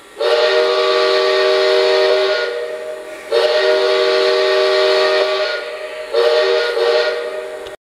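Three loud, sustained blasts come from the whistle of a Lionel Legacy 2-8-0 Consolidation model steam locomotive. The first two are long and the last is shorter, with brief gaps between them and no voices.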